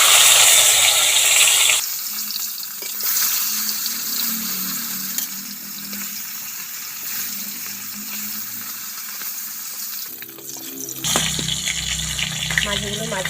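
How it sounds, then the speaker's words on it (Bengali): Koi fish frying in hot oil with turmeric in a kadai: a loud, bright hiss and crackle at the start fades to a low, steady sizzle, then another bubbling surge comes near the end. "তেলের মধ্যে দিয়ে দেবো সামান্য হলুদ গুঁড়ো, তেলটা কড়াতে চাড়িয়ে নিলাম। এবার দিয়ে দেবো মাছগুলো।"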